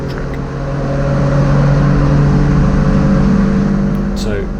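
A Citroen C1 lapping the Mallory Park circuit on a wet track with standing water, its engine a loud, steady drone that holds close and constant throughout, with no voices over it.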